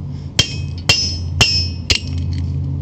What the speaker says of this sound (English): So take your cold chisel